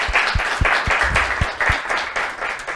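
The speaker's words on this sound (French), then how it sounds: "je veux que vous vous applaudissez vous-même" Students applaud themselves, a fairly loud, steady patter of clapping with a few heavier thumps, lasting just under three seconds.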